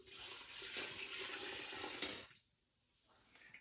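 Lukewarm water, 700 grams, pours steadily into a bowl for sourdough bread dough, a continuous splashing stream for about two seconds that stops abruptly, leaving near silence with a faint knock at the end.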